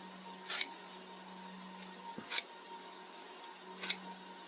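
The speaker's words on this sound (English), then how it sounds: "Sounds like a pair of scissors again." A freshly sharpened pair of household scissors snips three times at a slow, even pace, each cut a short crisp metallic slice, close up over a faint steady hum, with a couple of lighter clicks between.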